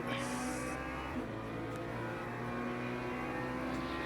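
A GT3 race car engine drones steadily in a racing game at Interlagos, a loud sustained harmonic whine with a brief higher-pitched rev at the start and no talk over it.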